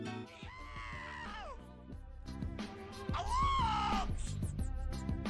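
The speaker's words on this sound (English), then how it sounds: "The track name is called Funny Man Yells in Medium High Pitched Tone." A Hollywood Edge cartoon effect of a funny man yelling in a medium-high pitched tone: two loud, strained comic yells, the second longer and stronger, separated by a short pause.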